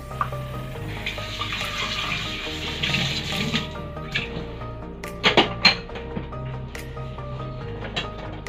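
A mango is washed under a running kitchen tap, a steady splash of water into a sink lasting throughout, with brief clattering knocks midway and no talk.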